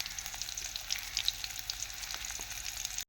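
Chopped shallots frying in oil in a pan, a steady close sizzle with crackling pops throughout, heard alone.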